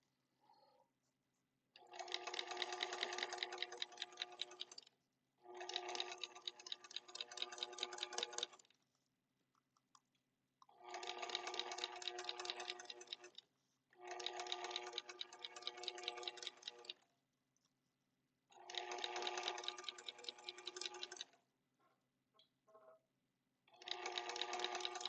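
Noisy sewing machine motor stitching a hammock seam, running in bursts of about three seconds each with short pauses between, giving a fast, rattling mechanical buzz that is close and fairly quiet, with no talking.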